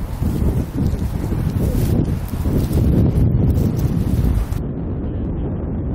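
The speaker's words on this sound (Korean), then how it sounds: "강바람이 여간 매섭지 않습니다" Strong wind blows across a river, buffeting the microphone with a heavy, continuous roar that eases only in the last second.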